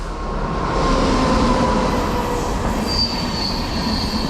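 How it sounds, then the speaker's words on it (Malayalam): A train passes close by, loud continuous wheel rumble with squealing rails and faint clickety-clack, heard alone without talk. "ട്രെയിൻ ഗോയവേ."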